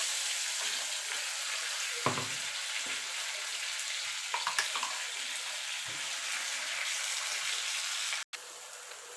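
Colocasia leaf paste stirred in a wok with lightly fried shrimp, a steady broadband sizzle with a few soft scraping strokes of a spatula and a brief dropout near the end.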